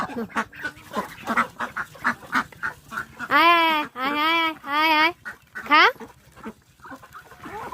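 Domestic ducks quack in a string of short nasal calls at evening feeding time, followed by longer drawn-out honking cries, with a person's voice mixed in nearby.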